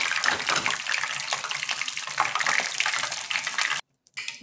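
Kara boondi batter deep-frying in hot oil, a steady close crackling sizzle that runs unbroken for several seconds before cutting off abruptly near the end.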